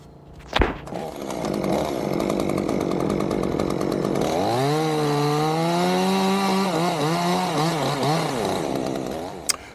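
A chainsaw runs close by, idling after a sharp knock, then revs up and bites into wood with a loud sustained whine that wavers as the cut progresses before easing off.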